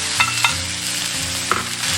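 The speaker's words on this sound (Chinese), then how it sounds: "煎至定型过后，就可以下入姜片、" Ginger slices and scallion whites hitting hot oil in a pan with crab already browned in it, a steady close sizzle with a few sharp crackling spikes and a low hum beneath, no voices.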